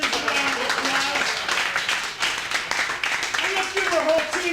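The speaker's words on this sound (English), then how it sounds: "A round of applause." Clapping fills a bar-basement comedy show, a dense steady patter of many hands with voices talking and calling out over it throughout.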